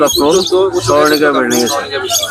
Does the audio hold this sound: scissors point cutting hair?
no